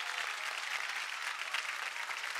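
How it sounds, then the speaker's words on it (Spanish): Studio audience applauding a mail carrier on a 1996 TV variety show, a dense, steady clapping that fills the whole moment, alone without talk. "Encima lo aplauden."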